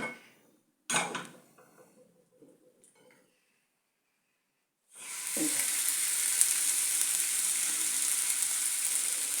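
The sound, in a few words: fish frying on a tawa (griddle)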